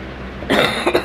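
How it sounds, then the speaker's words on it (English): A person who is feeling unwell coughs close by: one harsh, loud cough followed by two quick, shorter coughs, with nothing else but quiet room tone. "I can cough on it all I want."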